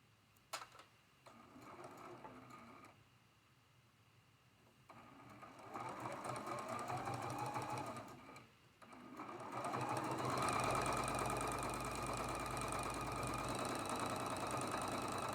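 A sewing machine stitches a seam on a quilt block, running in bursts of steady rapid needle chatter that stop and restart and grow louder and faster toward the end, with quiet handling sounds between.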